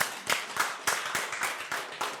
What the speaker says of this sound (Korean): 우리 장로님 박수 한번 쳐줘요.